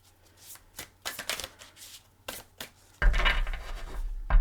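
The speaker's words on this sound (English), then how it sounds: "So we're just going to give them a couple shuffles like this." Fairly new tarot cards are shuffled by hand in a few separate riffles, each a soft crisp flutter, followed by a louder, denser burst of card noise close by, with no talking.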